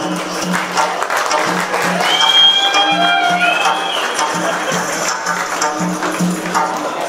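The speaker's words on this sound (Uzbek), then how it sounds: "Olqishlar gelsin." Sustained applause and cheering for the bride at an Uzbek-language wedding, a steady wash of clapping that swells in the middle, with a voice and music audible through it.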